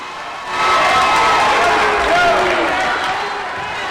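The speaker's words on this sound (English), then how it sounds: "Haven crowd furious with that foul call" Haven crowd at a boys sub-state semifinal basketball game erupting in loud, sustained shouting and jeering after a foul call, a dense roar of many voices that swells and holds.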